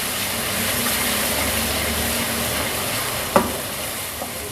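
Garlic ginger paste fries in a pan over a low flame, a steady soft sizzle running throughout with one brief clink near the end.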